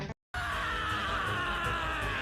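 A cartoon bird character in The Angry Birds Movie lets out a loud, sustained, strained scream after a split-second cutoff, holding steady to the end.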